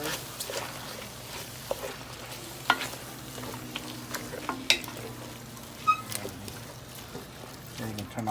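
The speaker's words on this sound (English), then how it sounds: "And just give it a quick stir." Hmong-style squirrel dish with cilantro and green onion being stirred in a pan, a soft sizzle with scattered clinks and scrapes of the spoon, quiet and close.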